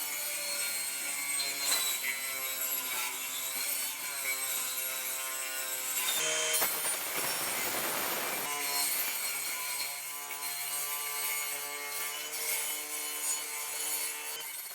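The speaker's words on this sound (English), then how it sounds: "the only way to do this properly is to try and cut out as much of that junk weld as possible" A power cutting tool grinds out old junk welds on a custom aluminium pontoon dinghy, a steady close metallic whine with tonal harmonics, interrupted midway by a brief harsher burst of cutting noise, with no talk.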